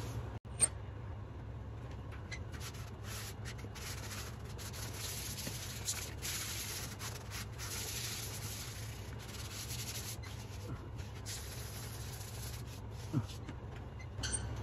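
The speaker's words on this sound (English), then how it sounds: "Nobody wants to do this kind of the sand and stuff." A filled hole being sanded by hand, heard as a steady, continuous scratchy rubbing at close range that carries on with little change in rhythm.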